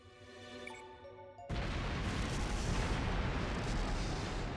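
A chest-strapped bomb detonates inside a factory in The Legend of Heroes: Trails into Reverie. Soft musical tones cut off abruptly into a loud explosion, then a sustained, roaring, rumbling blast fills the rest.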